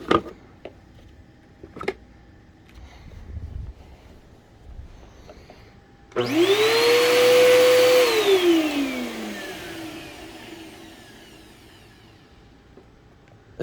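Bissell PowerForce Helix upright vacuum cleaner, sounding clogged, switches on after a few clicks and handling noises, roaring up to a strained, high whine for a couple of seconds before winding down slowly.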